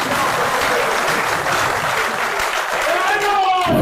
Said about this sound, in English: It deserves another round of applause.